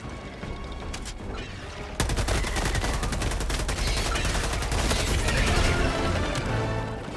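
Rapid automatic gunfire rattles in Helldivers 2, a quieter mechanical stretch giving way to a dense, sustained burst of shots that fills the rest of the clip, mixed with game sounds and no talking.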